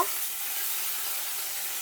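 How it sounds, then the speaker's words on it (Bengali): Ginger, cumin and green chilli paste sizzles steadily in hot oil, a dense close frying hiss that holds even throughout without any voices. "দিয়ে ভালো করে তেলের সাথে আমি এটাকে ভেজে নেব।"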